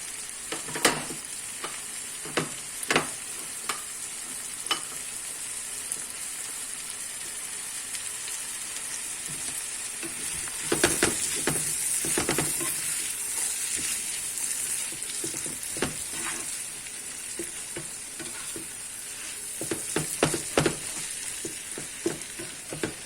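Vegetables for corn fried rice frying steadily in a hot pan, a continuous close sizzle broken by repeated scraping stirs and clinks of a spatula, with no talking.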